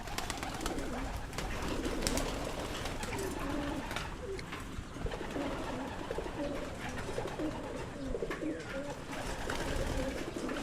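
Pigeons coo steadily in a Filipino pigeon loft, including grizzle hens, with soft overlapping calls against a constant rustling background and no clear talk.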